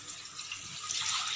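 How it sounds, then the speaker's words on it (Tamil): A cup of water is poured into a heated kadai on a stove, a steady splashing rush that swells slightly toward the end, close and alone. "ஒரு கப் தண்ணி எடுத்து சேர்த்து நல்லா தண்ணி கொதிச்சு வரட்டும்."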